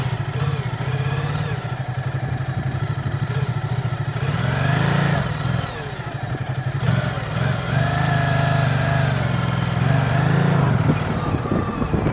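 A Ducati Multistrada motorcycle on a riding course with municipal police rumbles steadily up close, its engine note rising and falling through continuous riding.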